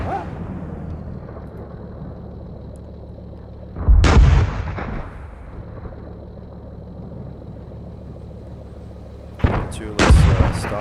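Tank main gun fired in a tank video game: one heavy, booming blast near the middle and two more close together near the end, over a steady low engine rumble with no talk.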